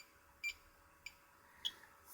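A small electronic gadget running at 4.86 volts gives three short, faint, high beeps spaced roughly half a second apart over a quiet background hiss.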